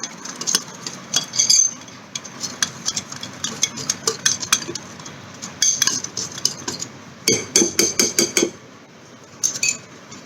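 Mutton pieces being stirred and mixed with salt and marinade in a metal bowl, with repeated clinks and scrapes of a spoon against the vessel in irregular bursts, close and fairly loud.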